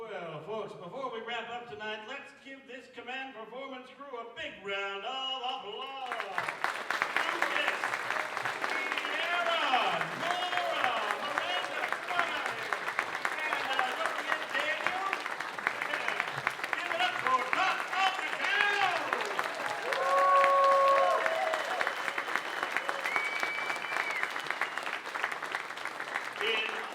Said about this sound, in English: let's give this command performance crew a big round of applause